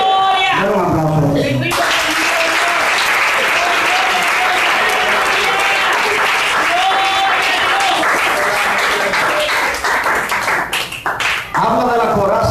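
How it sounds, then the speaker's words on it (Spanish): A congregation gives loud, dense applause during an evangelist's church sermon. After a voice at the start, the sustained clapping fills most of the clip and then thins near the end. "Dale un aplauso."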